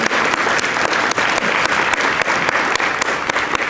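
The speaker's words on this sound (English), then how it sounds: "let's give a big round of applause to those numbers" An audience at a county energy summit breaks into a big round of applause, loud and close, with sharp individual claps standing out from the steady crowd clapping.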